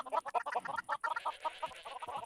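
Chickens cluck in a Minecraft DawnCraft modpack farm, a dense overlapping chatter of rapid, clipped bird calls from several hens close by, continuing without pause.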